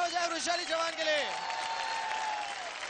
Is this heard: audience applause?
yes